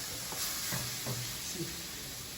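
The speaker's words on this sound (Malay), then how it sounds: "So kita kacau sehingga pecah minyak" Biryani masala frying in oil in a pan is stirred, a soft steady sizzle with a few faint scraping strokes of the spoon, quiet and close, with no talking.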